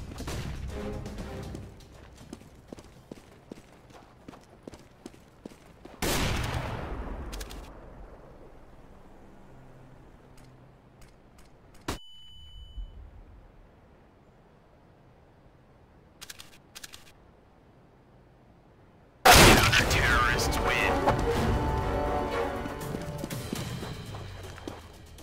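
A flashbang grenade goes off in CS:GO: sharp bursts and a loud ringing blast, then another long, bright explosion with a lingering roar, scattered between quieter clicks and gameplay noise.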